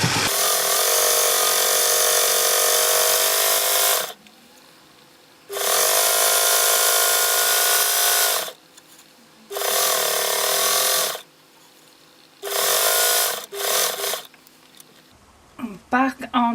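Sewing machine top stitching apron material, several loud bursts of fast, whirring stitching separated by short pauses, ending with a few clicks and handling noises.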